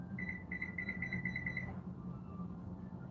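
Kitchen timer beeping during pizza making at a hot oven, a rapid run of about ten bright beeps in paired bursts over steady kitchen hum, then stopping as the room noise continues.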